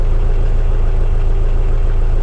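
A VW turbo diesel engine fitted with an 11mm pump head runs loud and close, a constant low, clattering rumble with no letup and no voices.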